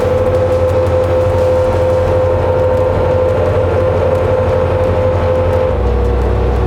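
A Bobcat loader fitted with an open-frame sweeper attachment runs with a steady, loud engine drone and hum that holds a constant pitch, with a slight shift near the end; no one speaks.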